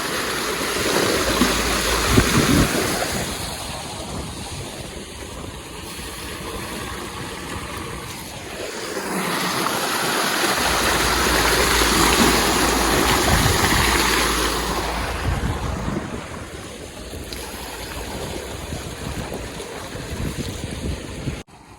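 A broad, steady rush of water flowing onto plants on a farm outdoors, swelling and easing over time with a breezy wash behind it; no voices.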